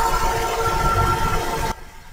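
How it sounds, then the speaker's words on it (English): A train rumbles past in the bar scene of the video game VA-11 Hall-A, a loud, dense rolling roar with a steady hum that cuts off abruptly near the end. "I guess the train's coming through here."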